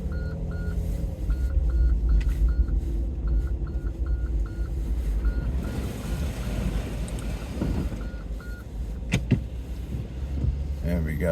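A car on new tyres creeps backward along a muddy track on the Brecon Beacons, its engine low and rumbling with a repeating electronic chime, then wind buffets the microphone and a few knocks follow near the end.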